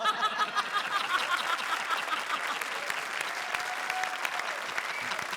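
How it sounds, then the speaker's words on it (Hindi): A studio audience at a comedy show applauds in a dense, sustained burst of clapping, loud at the start and settling to a steady patter, with a few light chuckles mixed in. "तालियां।"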